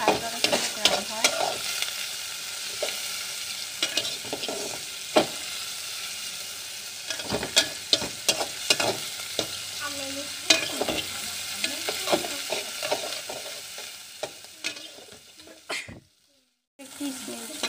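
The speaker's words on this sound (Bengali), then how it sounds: "চিংড়িটা একদম লাল লাল করে ভালো করে ভেজে নেবেন।" Prawns fry in a pan over a steady sizzle, broken by frequent scraping, clattering stirs close by; the frying cuts out abruptly near the end for a moment of silence.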